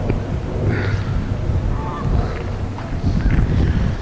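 Geese honk at a bird sanctuary where white swans gather, with scattered calls rising over steady outdoor wind noise and low rumble.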